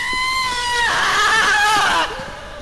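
Character screaming in the horror video game Interliminality, a loud, drawn-out, wavering shriek that rises sharply partway through and then breaks off, with game noise underneath.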